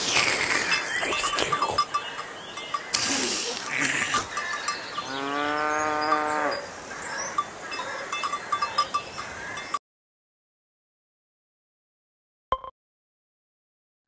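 Cartoon cows give a long, loud drawn-out moo over a busy farmyard backdrop with clinks and animal noises, then the sound cuts to near silence with one brief click.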